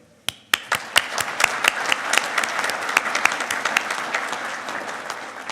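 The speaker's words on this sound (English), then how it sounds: "let's give a round of applause to each one of you." An audience applauds graduates at a 2019 spring master's hooding ceremony: a few sharp, separate claps build quickly into loud, sustained applause from a large crowd that holds steady to the end.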